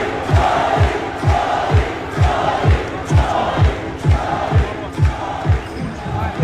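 Loud crowd noise at a fight event, a continuous roar of cheering swelling in waves over a steady pulse of low thuds, like rhythmic stomping or drumming.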